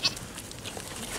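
Goats on a ranch, one short bleat near the start, then quiet background rustling from the livestock.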